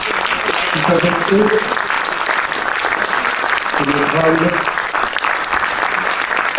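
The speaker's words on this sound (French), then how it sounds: "On peut les applaudir" An audience applauds at a festival inauguration, a dense and sustained clapping that fills the room, with people talking over it.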